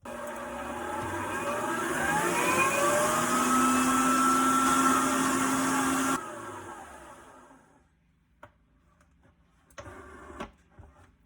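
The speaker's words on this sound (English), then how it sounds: "I'm going to continue beating it with the stand mixer for roughly 10 minutes or so till it's nice and stiff" A stand mixer beating vegan, gluten-free tiramisu cream whirs loudly and steadily for about six seconds, its motor pitch shifting, then winds down and stops, followed by a few light clinks and knocks.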